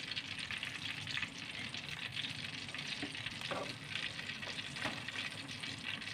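Minced meat and chilies frying in oil until the oil separates, a dense, continuous sizzle with occasional stirring scrapes, close and steady, with no talking.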